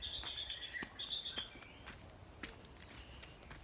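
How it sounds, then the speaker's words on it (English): Bright bird chirps and tweets ring out repeatedly in a Hawaiian jungle over a steady hiss of insects and jungle ambience, with occasional soft rustling steps. "So many exotic birds chirping."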